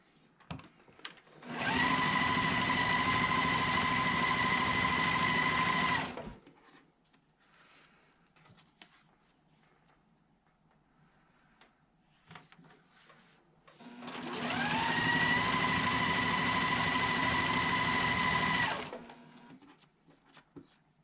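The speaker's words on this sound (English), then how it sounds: "we're going to stitch right on that line, right on the drawn line" A sewing machine stitches along a drawn line on a quilt block, with two sustained, steady runs of motor hum and needle chatter, each about four to five seconds long and close by, separated by a quiet pause.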